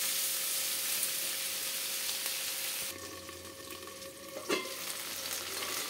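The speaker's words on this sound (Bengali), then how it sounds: "এবার আমি পেঁয়াজ দিয়ে দেবো। পেঁয়াজ দিয়ে ভাজবো।" Onions fry in hot oil in a pan with drumsticks and potatoes, a steady close sizzle with a brief clatter of stirring partway through, no voices.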